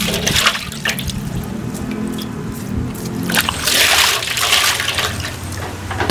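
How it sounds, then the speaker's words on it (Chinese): Food rinsed under running kitchen water, with a loud, steady splashing stream that swells partway through and continues without pause, close by and with no voices. "先冲洗一下"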